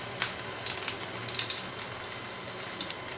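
Raw banana slices sizzle in hot mustard oil in a wok over a lowered gas flame, a steady close crackling hiss with scattered sharper pops and no voices.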